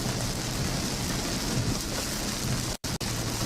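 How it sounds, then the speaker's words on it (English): Storm rain with small hailstones pelting a car, a dense continuous patter and hiss on the bodywork, steady and close, with a couple of brief dropouts near the end. "You kind of hear them pelting off the car a few times here."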